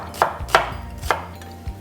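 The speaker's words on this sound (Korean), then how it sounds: "양파가 가장 중요한 역할을 하는데 곱게 채 썰어 주셔야 됩니다" A knife chops onion on a cutting board, slicing it into fine strips for a brown stock in a cooking exam setting: a handful of crisp, evenly spaced knocks against the board, close and clear with no talking.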